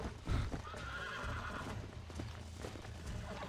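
Horse hooves clip-clop steadily while a horse neighs and whinnies in the Red Dead Redemption 2 video game, with game ambience and scattered other sounds around them.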